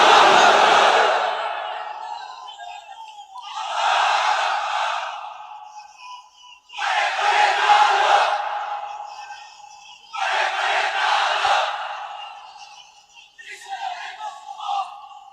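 A large crowd answers a call with loud unison shouts of Allahu Akbar, four long roaring bursts separated by short pauses, with a single voice calling between them.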